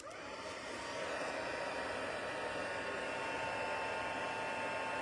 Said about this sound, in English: And I'm going to let it heat up for just a minute to minimize warping and discoloration and maximize how fast it melts.